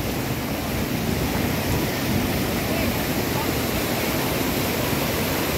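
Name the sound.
river water flowing strongly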